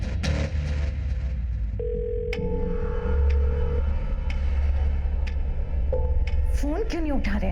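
A phone rings unanswered, a steady electronic tone held for about two seconds over a continuous low rumble, followed by fainter tonal bleeps and rising warbles.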